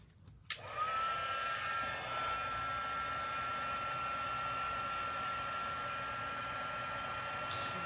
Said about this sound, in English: let me get out the heat gun and we'll emboss this